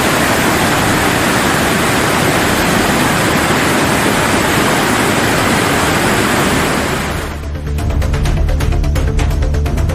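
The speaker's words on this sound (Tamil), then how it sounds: "கண்மாய் நீர் அருவி போல" Floodwater from a lake overflowing through its sluice gate and pouring out like a waterfall, a loud, continuous roaring rush of water that breaks off near the end into a different, choppier sound.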